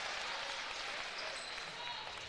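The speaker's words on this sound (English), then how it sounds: "Crowd reaction there." A crowd at a women's college basketball game roars in sustained, dense noise after a referee's call, loud and continuous throughout.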